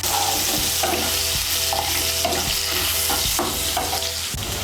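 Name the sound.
potatoes frying in oil with salt and turmeric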